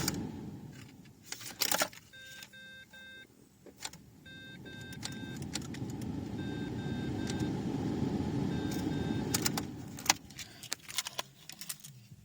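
Keys jangle in a rusty Ford Fairmont AU while a repeating electronic chime sounds, then a sustained low cranking whir rises and fades without the engine catching. It is fairly quiet and has no speech.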